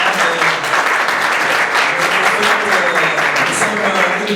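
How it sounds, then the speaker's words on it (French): An audience claps at an African club gathering, a dense, loud, continuous wash of applause that holds steady for the whole few seconds, with a faint voice beneath. "je voudrais d'abord que les gens applaudissent celui qui vient nous parler"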